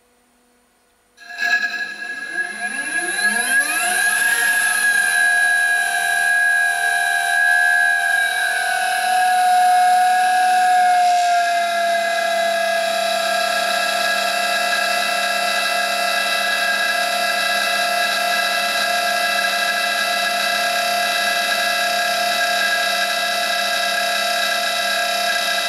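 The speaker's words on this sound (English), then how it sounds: "we're going to put about 300 amps RMS through the EMRAX motor and see how it handles it" A water-cooled EMRAX 228 electric motor, driven by an SD100 controller at about 300 amps RMS, spins up from silence. Its whine climbs in pitch and then settles into a loud, steady, multi-tone electric hum that runs unbroken.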